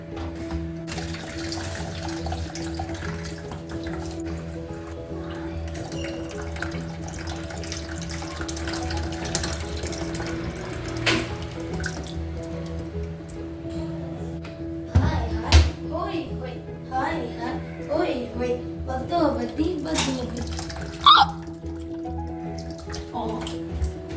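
Sesame seeds washed by hand in water, with running water, swishing and splashing under ongoing conversation, which grows busier and more splashy toward the end.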